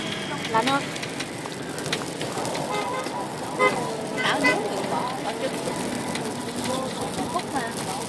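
A wood fire crackles and pops with scattered sharp snaps beside people in chilly Dalat, Vietnam, while voices chatter and laugh over the steady burning hiss.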